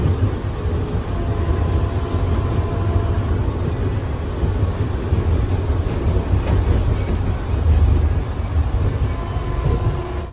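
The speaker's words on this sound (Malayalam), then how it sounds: "ഇപ്പോൾ വണ്ടി ഇവിടുന്ന് എടുക്കുകയാണ്." A Vande Metro train on the Jaynagar to Patna route rumbles steadily as heard from inside the coach, a loud continuous low roar with faint rail clatter throughout and no voices.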